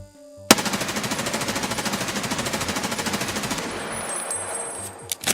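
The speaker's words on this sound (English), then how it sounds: "Now for recoil, we're going to do the controlling test." A rifle fires a long, rapid automatic burst at a dummy during a recoil control test, each shot evenly spaced and loud, before it stops and a few faint clicks follow.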